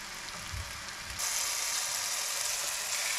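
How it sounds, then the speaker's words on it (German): A piece of butter hits a hot frying pan already cooking onions for Berlin-style calf's liver, and a steady bright sizzle swells up and holds, close and even, with no voices over it. "Wir geben jetzt hier noch mal ein Stück Butter hinein."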